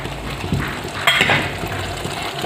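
Sliced tomatoes cook in a pan for a Khandeshi-style green chickpea curry, giving a soft steady sizzle with a few light scrapes and clinks of a spoon stirring, close and moderately quiet.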